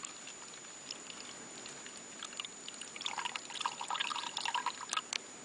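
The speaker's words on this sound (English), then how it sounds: "Pour slowly so that you can avoid making bubbles." Liquid is poured slowly from a bottle into an electrochemical cell. After a quiet start, a soft, faint trickle and splashing begin partway through and carry on unevenly to the end.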